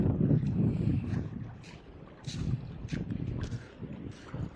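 A boat crosses a river toward the bank beside a market at a fishing spot, a steady wash of water and wind rushing close to the microphone, swelling and easing in uneven bursts.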